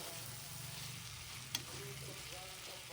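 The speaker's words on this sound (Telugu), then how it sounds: "ఇది మాత్రం బాగా మసాలా ముక్కలకు పట్టేంత వరకు వేయించుకోవాలి." Country chicken head and leg pieces fry with masala in a pan, giving a soft, steady sizzle with faint hissing and a brief clink near the middle, quiet throughout.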